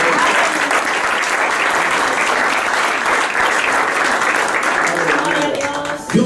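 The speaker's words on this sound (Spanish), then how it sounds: "Un aplauso a Jesús." A congregation at a church service breaks into sustained, loud applause that holds steady for about six seconds before tapering off at the end, with some voices mixed into the clapping.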